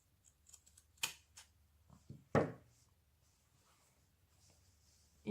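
Scissors or pinking shears cut excess fabric in a sewing project, giving a few quiet, isolated snips with one sharper cut, near and alone against a silent room.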